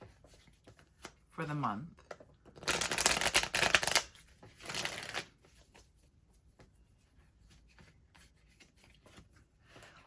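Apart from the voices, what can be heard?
shuffling tarot cards for a reading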